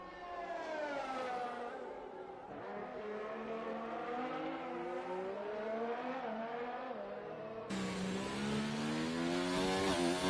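A race car engine on a hot lap in a racing video game, a loud, continuous engine note that climbs and drops through the gears, rising sharply again near the end.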